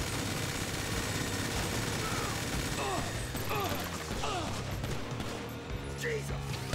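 Bursts of gunfire in Grand Theft Auto 5 during a bank heist shootout, repeated shots and rattling under a dense mix of game noise, with a voice talking faintly at times.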